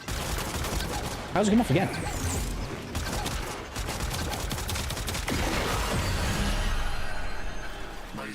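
Gunfire in the video game Warframe: rapid volleys of shots and mechanical clatter run throughout, with a person talking over the shooting.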